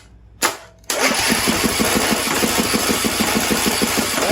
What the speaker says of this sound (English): there it goes. Yeah, it's pumping.